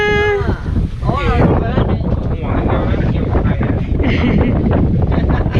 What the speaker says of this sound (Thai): ลมมันแรงนะครับวันนี้ ลมแรงมาก